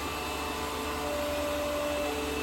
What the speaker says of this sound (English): This is on high vacuum now. This is going to go right around the edges of the wall.